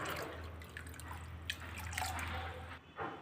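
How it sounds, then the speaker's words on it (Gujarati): Fresh water pours over washed mixed dal in a bowl to soak it, a soft trickling and dripping stream with a few louder splashes, under a low steady hum. "ફરી વખત આપણે તાજું અને ચોખ્ખું પાણીથી આને પલાળી દઈશું"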